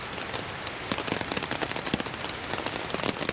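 Steady rain drums on a tent during a night storm in a pine forest at a solo wild camp, a dense, close patter of drops with sharper taps throughout, with no voices.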